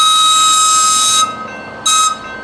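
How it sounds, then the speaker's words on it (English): Air whistle on an Amtrak backup hose, powered by air brake pressure and sounded at a crossing: two loud, shrill steady blasts, a long one then a short one, with a hiss between them. "The backup hose has a built-in whistle that uses air brake pressure for signaling at crossings."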